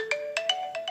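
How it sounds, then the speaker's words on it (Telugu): A phone notification tone sounds as a one-time password message arrives, a short bright electronic chime with five quick pulses in one second, close and clear with no talk. "ఓటీపీ వచ్చేసింది"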